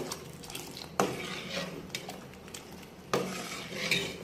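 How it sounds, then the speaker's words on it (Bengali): Washed polao rice is stirred into boiling milk in a pot for payesh, with a spoon scraping and clinking against the pot, two sharper knocks, and soft bubbling underneath; quiet and close, with no talking. "পোলাওর চালটা ধুয়ে রেখেছিলাম, দেওয়ার সাথে সাথে একটু নেড়ে দিব"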